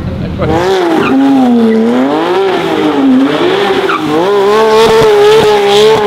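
Widebody 800hp Corvette with tires squealing and skidding, a loud sustained wavering screech near and continuous, with engine revving underneath and a few sharp pops late.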